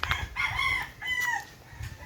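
A chicken on a rural farm path near planted crops, a few close, clear clucks and short calls in quick succession, with no talking.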